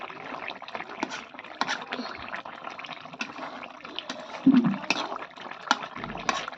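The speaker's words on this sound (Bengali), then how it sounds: "তরকারিটা টকবক করে বলক আসছে" A vegetable curry with cumin boils in a pan, giving a soft, steady bubbling and popping close by with occasional louder blips, without talking.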